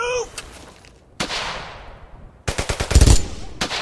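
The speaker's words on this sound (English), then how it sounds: "That's an MG right there." Machine gun fire in the World War II shooter Brothers in Arms: Hell's Highway, loud rapid bursts of rattling shots with sharp gunshots and echoing tails, heard close and alone.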